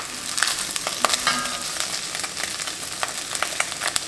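Pork meat browns in a hot pan for a steamed bun filling, giving a continuous close sizzle and crackle with scattered sharp pops and faint stirring, no voices.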